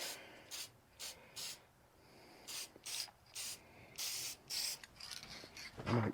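Rust-Oleum aerosol spray paint going onto an Arctic Cat Ramrod engine in a run of about ten short hissing bursts, close by, separated by brief pauses.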